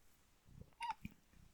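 Cat giving a short, faint meow-like call once, with a few soft clicks around it in a quiet room.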